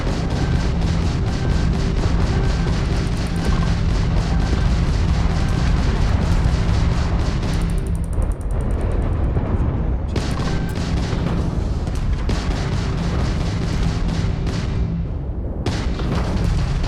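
Gunfire in Starfield combat: a dense barrage of shots and booming blasts runs almost nonstop over a steady musical game backdrop, with brief lulls near the middle and end.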